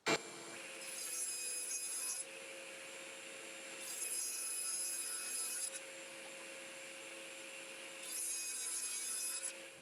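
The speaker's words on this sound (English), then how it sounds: "I'm going to rip this into sections that'll fit in there" Wood ripped into sections on a saw for an outdoor side table, heard as a constant motor whine broken by three bursts of harsher cutting noise as the stock feeds through, with no one talking.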